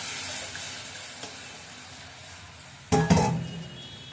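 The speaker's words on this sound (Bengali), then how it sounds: "এদিকে ডালের ফোড়নটা দিয়ে দিচ্ছি" Spices for dal tempering hit hot oil, bursting into a loud, close sizzle after a few seconds of quiet kitchen background, then hissing on steadily.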